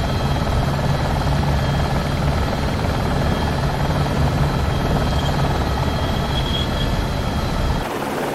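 An Esquilo helicopter in the X-Plane 11 flight simulator, working at Machmell Fisheries, drones with a loud, continuous turbine and rotor whine. The sound holds steady and close throughout, then cuts off abruptly at the very end.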